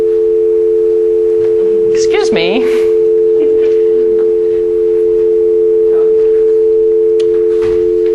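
A steady, loud telephone dial tone drones unbroken on a dropped conference line while a voice briefly speaks over it.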